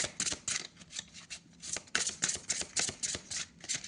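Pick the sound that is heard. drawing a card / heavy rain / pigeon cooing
drawing a card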